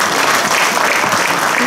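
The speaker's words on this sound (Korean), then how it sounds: "뜨거운 박수 좀 부탁드립니다" Loud, warm applause from an audience at an inauguration ceremony of a hometown association federation, dense continuous clapping filling the hall for a brief stretch.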